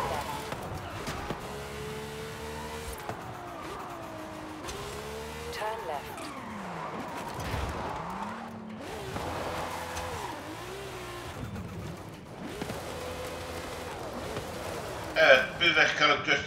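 Cars rev at full throttle in the racing video game Forza Horizon 5, with engine notes climbing and dropping repeatedly and tires squealing, while someone talks over the game sound.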